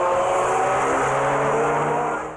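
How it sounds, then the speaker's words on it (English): Car roaring up fast from behind on a highway, a loud sustained engine drone with rising harmonics that fades off at the very end, no voices. "Just the sound of the car."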